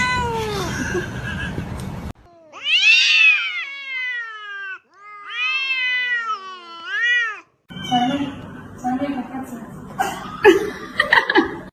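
A cat meows in several long, drawn-out, wailing calls, loud and close, between stretches where people talk and laugh.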